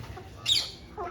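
A single hen gives a short, sharp cluck close by, a brief squawk rising out of quiet farmyard background noise, followed by a fainter second call.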